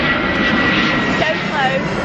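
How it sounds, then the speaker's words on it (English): Airplane passing very close overhead, a loud, steady engine roar that fills the whole short stretch with a continuous broadband rush. "Look how close this plane is."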